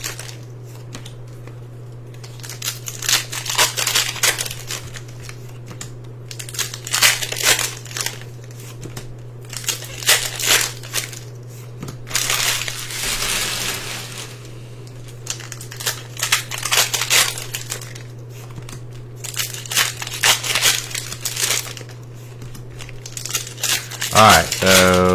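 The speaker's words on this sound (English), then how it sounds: "Alright, so we're opening all these packs, so there should be 30 packs worth of stuff right here." Foil wrappers of Pokémon card packs, about thirty packs in all, being torn open and crinkled in repeated bursts of ripping and rustling close by, over a steady low hum.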